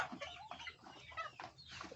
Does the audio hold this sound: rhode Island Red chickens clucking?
yes